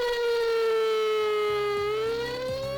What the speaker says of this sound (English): A refinery evacuation siren is indicated by a civil defense siren.